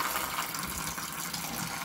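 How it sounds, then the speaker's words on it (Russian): A little water is poured into a dish, making a steady, faint trickling and splashing sound that runs evenly for about two seconds with no talking. "Давай водички туда налью чуть-чуть."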